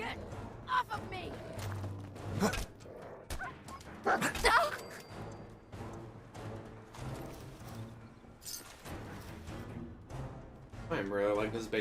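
Dogmeat, the dog companion in Fallout 4, barks and yips in short bursts amid combat clatter, mixed with a voice talking throughout.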